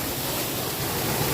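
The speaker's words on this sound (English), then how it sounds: "So there you go, beautiful waterfall." Steady, dense roar of a waterfall in Minca, a continuous broadband rush of falling water close by with no talk over it.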